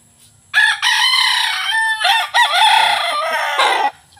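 A fighting rooster of Kelso and YLH breeding crows loudly and close by, one long, strong crow with a brief break partway through, against a quiet background.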